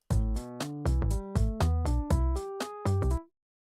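A run of plucked or keyed notes climbs and falls through a pentatonic scale with the ninth replacing the third, evenly spaced and clear, ending on a sustained high note.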